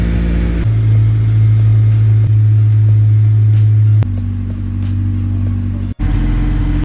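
Honda S2000 with a dead battery cranking and catching, then a steady loud idle rumble with a brief change in engine note and a sharp momentary cut near the end, close up.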